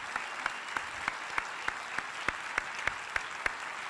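Conference audience at Shmoocon 2020 applauding staff, heard as sparse, evenly spaced claps from a small group, fairly faint and steady, with no voices over it.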